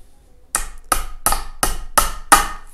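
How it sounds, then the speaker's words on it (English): A hammer gently taps a glued wooden dowel into its hole during assembly of a Stompa Uno 5 high sleeper bed: six sharp, evenly spaced knocks, close and distinct after a brief quiet start. "gently tap it in with a hammer."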